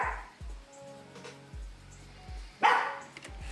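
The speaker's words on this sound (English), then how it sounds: "what you barking at?" A dog barks indoors in several sharp, separate woofs spread across a few seconds, fairly close, with small gaps of quiet between them and a louder burst near the end.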